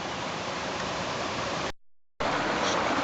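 Salmon Creek flows strongly despite months without rain, a loud, steady broadband rush of water close by, broken once by a short cut to silence before the flow resumes.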